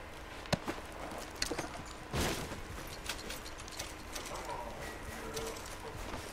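Game horse in Red Dead Redemption 2 clip-clopping away at a gallop, light hoof beats amid ambient outdoor game sounds with a sharp crack early and a brief burst midway.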